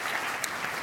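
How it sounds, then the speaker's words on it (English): A conference audience claps in a steady, dense burst of applause after a panel, heard briefly and evenly. "Give us another hand of applause."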